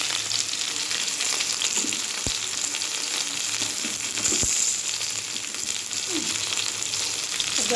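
Fish head curry masala sautéing in a pan after the fried fish head is set aside, giving a steady close sizzle with a few faint stirring scrapes throughout.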